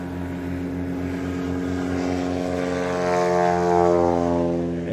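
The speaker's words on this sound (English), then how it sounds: "look at how short those takeoffs are right now." A STOL-kitted light propeller airplane with drooping wingtips roars through a takeoff run at a STOL competition in Pinedale, Wyoming, its steady loud engine drone with rising and shifting pitch heard up close and alone.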